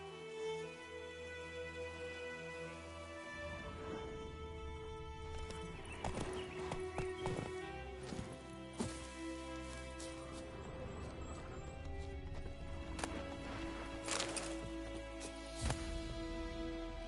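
Roach the horse in The Witcher III galloping, a quick run of hoof clip-clops with an occasional neigh, set against game music and ambience, steady and fairly quiet throughout.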